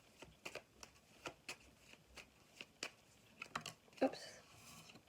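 Tarot cards being shuffled for a reading: a steady run of crisp, close snaps and riffles, one every half second or so, ending in a slightly louder flurry.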